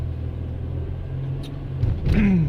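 A car on the road heard from inside the cabin, its steady low engine and road rumble continuous throughout, swelling slightly louder near the end as it speeds up.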